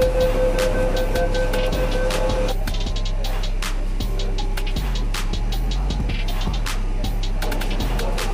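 A Kolkata underwater metro train running beneath the Ganga gives a constant low rumble with rattles, rhythmic clicks of wheels over track joints and a brief tonal whine, heard from inside the carriage, loud and continuous.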